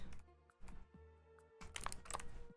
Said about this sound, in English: this typing sound